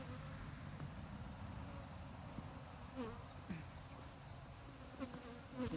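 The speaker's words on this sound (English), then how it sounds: "See if these other bees are going to accept them." A steady insect buzzing of honey bees at a hive, close and continuous, with a few louder passes of individual bees darting near.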